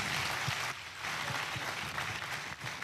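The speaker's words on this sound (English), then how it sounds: "Please give my mother a round of applause." A conference audience applauds a speaker's mother as she stands, a faint, distant wash of steady clapping that dips briefly partway through, with no voices.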